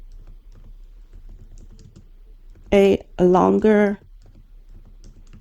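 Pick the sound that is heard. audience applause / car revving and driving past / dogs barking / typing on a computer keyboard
typing on a computer keyboard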